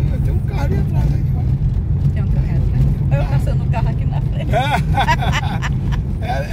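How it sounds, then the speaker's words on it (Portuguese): A car passes in front on a rural dirt road after rain, a steady loud rumble close by, with people talking over it. "Passando o carro aqui na frente."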